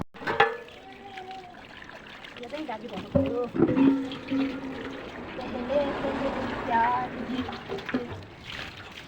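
Steady trickling water runs from a village spring spout throughout, with a few voices talking over it nearby.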